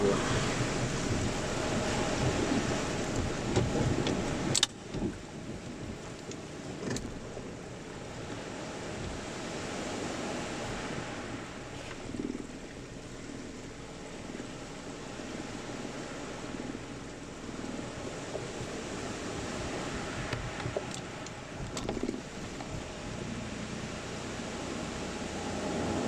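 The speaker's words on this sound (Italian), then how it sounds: "Ah, che bello mare, la grotta sfonda con la bassa marea" Sea waves wash and surge inside a sea cave at low tide, a steady broadband roar with occasional sharper splashes near 5 and 22 seconds, windy and continuous throughout.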